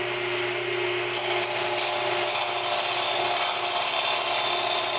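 A lathe turns a wooden spice grinder blank as the tool chips off shavings, giving a continuous loud scraping and rasping cut over the steady motor hum, which swells slightly after the first second.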